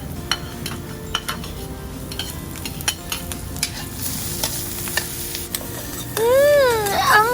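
Ginger fries in a pan for sweet and sour fish, a steady sizzle under repeated sharp clicks and scrapes of a utensil against the pan. Near the end, a baby's high cry is heard.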